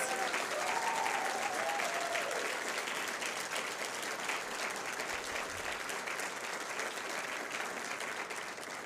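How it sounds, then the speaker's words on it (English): Steady, sustained applause from a large crowd, dense clapping filling the space throughout with no breaks. "can we please have one last round of applause for all of our 2024 ambassadors?"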